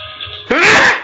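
During a tabletop gaming session, a person sneezes once, sharply and loudly, with a brief breathy intake before the explosive burst.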